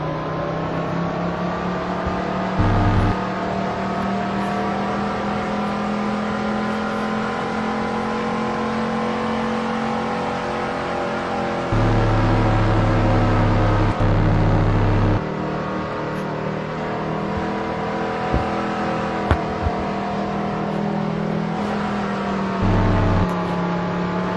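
A NASCAR race car engine in a racing video game on an F1 track in Qatar holds a loud, sustained whining drone that shifts pitch as it revs and eases, with brief low thumps along the way.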